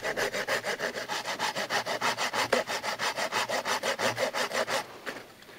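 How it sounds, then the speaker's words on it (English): A hand saw cuts slots into a piece of wood with a fast, steady rhythm of about twenty close back-and-forth strokes, then slows and stops. "And so what I'm doing is I'm sawing 2 slots down it."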